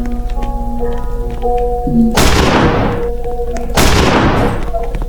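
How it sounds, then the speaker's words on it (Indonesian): Two loud pistol shots in a Roblox game fire about a second and a half apart, each a sharp broadband crack that decays into a rumbling tail, over steady game music and background tones. "Pistol. Nembaknya gitu."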